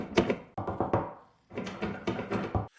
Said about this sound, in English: Suddenly, someone begins rattling the door handle.